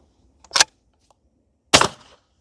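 Two suppressed 12-gauge shotgun shots from a JK 195 suppressor firing target birdshot, each a sharp, loud crack with a short tail, spaced about a second apart and standing alone with no talk.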